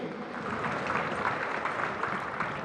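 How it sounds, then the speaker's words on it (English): A crowd at the grand finale of the Nigerian Police Week gives Inspector General Solomon Egato Arase a steady round of applause, a dense, even clatter of clapping that holds throughout. "can we call for another resounding applause for the IGP Solomon Egato Arase?"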